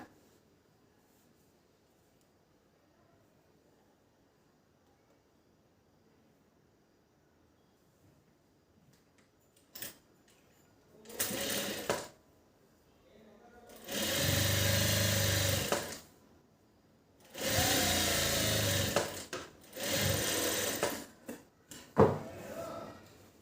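A sewing machine stitching a seam on a large blouse starts after a long quiet stretch, running in several bursts of close, steady mechanical whirring separated by short pauses.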